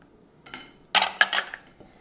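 A spoon clinks and scrapes against a bowl while parsley and thyme are stirred into pumpkin bread dressing, a few quick close knocks bunched together.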